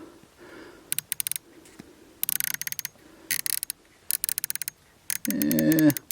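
Windage turret on a rifle scope being turned by hand, giving several quick bursts of crisp, close mechanical clicks separated by short pauses, followed by a brief rougher rustle at the end.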